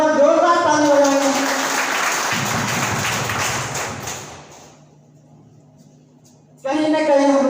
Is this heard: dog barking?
no